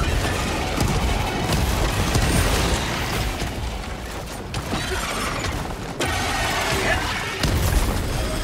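Grenade blast during Helldivers 2 combat against Terminids, a dense crash and boom that blends into sustained rumbling battle noise, loud and close, with a sharp break partway through.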